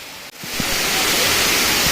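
Sirimane Falls near Kigga in Chikkamagaluru pours down in a loud, steady rushing roar that swells up after a brief dip and then holds constant, close and enveloping.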